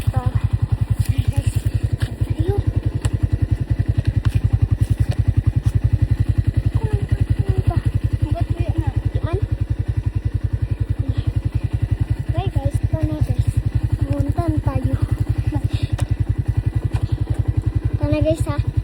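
A motorcycle engine putters with a steady, throbbing rhythm up close, while voices talk intermittently over it.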